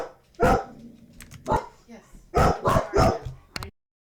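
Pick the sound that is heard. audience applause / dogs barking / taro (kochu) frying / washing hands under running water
dogs barking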